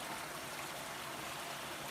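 A brook flows steadily through a quiet wooded spot in Orkney, a continuous close rush of water with no voices.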